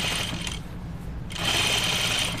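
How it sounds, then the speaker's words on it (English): A sewing machine stitching a seam runs steadily up close, pauses briefly partway through, then resumes with a louder, even mechanical whir. "I'm just sewing right to the left, right to the left, just to the left of the basting"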